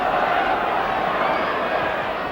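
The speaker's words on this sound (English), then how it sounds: "Not a bad crowd here today." Crowd noise in a football stadium during a match: a dense, steady roar of many distant voices filling the ground without letup, with a voice faintly audible in the mix.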